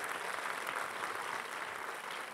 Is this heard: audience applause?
yes